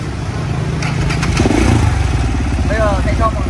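A KTM 690 SMC R single-cylinder motorcycle idles and rumbles loudly in Hanoi rush-hour traffic, a steady close engine drone with a short voice briefly heard over it near the end.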